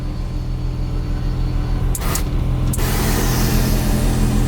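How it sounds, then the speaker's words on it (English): A car fitted with a homemade air suspension and air management system lets out air as it lowers, a loud steady rumbling hiss throughout with brief sharper bursts of release near the middle. "should air the car down"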